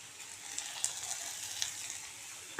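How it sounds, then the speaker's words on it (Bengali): Potatoes stirred and frying in a pan over a high gas flame, a steady bright sizzle with a few soft scraping clicks of stirring, close and without talk. "আমি দিয়ে দিলাম আলু, একটু ভালো করে নেড়ে নেবো।"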